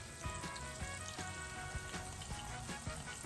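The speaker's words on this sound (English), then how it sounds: "And we're going to let them fry" Fresh chicken livers fry in hot oil with a steady close sizzle and bursts of popping and spattering, fairly quiet and with no talk over it.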